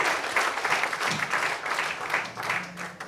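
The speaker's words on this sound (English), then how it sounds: "Big round of applause for Keith." An audience at a breakfast briefing claps in a steady round of applause, a dense moderate patter of many hands lasting a few seconds without talk.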